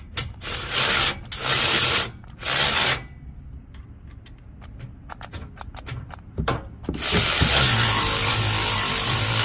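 An extended drive with a stubby 18 mm socket runs down bolts during a Rough Country 6-inch lift kit install on a Dodge Ram 1500, giving loud ratcheting whirs in bursts separated by quieter pauses and clicks.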